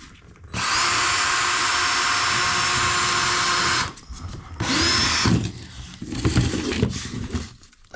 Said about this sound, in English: So what I'll do is drill into there,